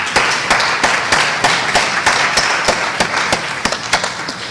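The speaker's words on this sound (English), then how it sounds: "Let's give one more round of applause for our senior class." An audience at a high school class awards ceremony applauds the senior class with sustained clapping, with sharp, regular claps standing out over a dense, even wash of applause.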